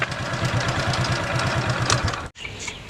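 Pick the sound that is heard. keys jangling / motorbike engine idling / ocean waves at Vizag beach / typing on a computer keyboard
motorbike engine idling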